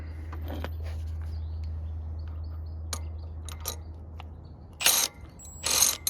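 Wrenches turn a wheel stud on a Ford F-250, giving sparse metallic ratcheting clicks over a low steady hum, followed by two louder bursts of rattling noise near the end.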